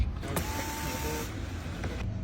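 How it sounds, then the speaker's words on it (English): Headlight washers on a Subaru Impreza GD2 fire a brief burst of pump whir and spray, followed by a quieter idle hum with no one talking. "This car also has headlight washers."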